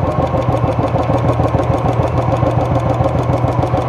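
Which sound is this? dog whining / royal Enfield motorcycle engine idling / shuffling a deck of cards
royal Enfield motorcycle engine idling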